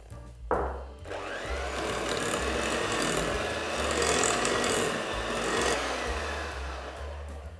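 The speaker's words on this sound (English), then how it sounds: "I'm going to mix in the egg" An egg is mixed into cake batter for queen cakes with lemon zest, a steady close scraping and rubbing that runs for several seconds after a brief knock at the start, with no talk.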